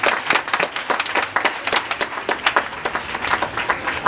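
Audience members clap their hands at an outdoor food distribution event in Ghana, a dense, steady burst of many overlapping claps with sharp individual slaps standing out, sustained throughout without speech.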